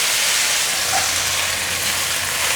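Bamboo shoots, black fungus and shredded carrot are stir-fried in a wok, making a loud, dense, unbroken hiss and sizzle close by.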